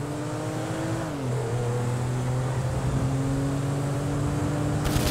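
A car in GTA 5 is driven recklessly, its engine humming steadily with revs shifting down and then climbing again, loud and continuous with no voices over it.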